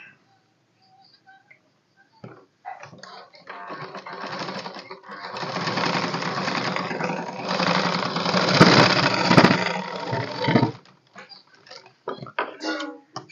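A sewing machine stitches a waistband along a marked line on a tailored garment, running in one long steady whirring burst of several seconds. Short bursts come before and after it, with quiet handling sounds in between.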